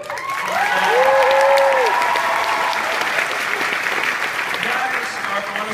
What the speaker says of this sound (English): a round of applause for the staff